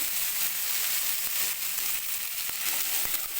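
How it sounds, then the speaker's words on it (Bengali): Whole cumin seeds and chopped taro root sizzle and crackle in hot oil, a steady close frying hiss with a few sharp pops and no talk. "আর দেব গোটা জিরে। দিয়ে দেব কেটে রাখা কচুরমুখী।"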